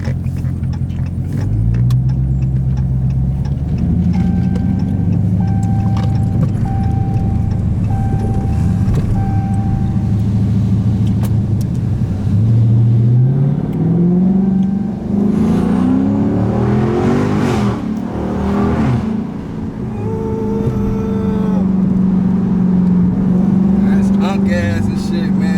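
A Dodge Scat Pack with a Hemi engine idles loudly close by, its pitch rising and falling through several revs over about half a minute while people talk over the rumble.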